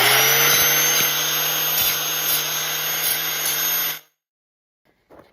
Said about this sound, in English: Gonna take the sharp burrs off the corners.